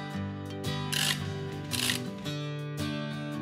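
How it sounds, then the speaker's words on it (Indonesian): A micrometer screw gauge's ratchet is turned once the spindle rests on the object, making soft, rapid bursts of clicking in a few short runs, close up in a quiet room. "Saat spindle sudah menyentuh objek yang akan diukur, maka ratchet akan berbunyi saat diputar."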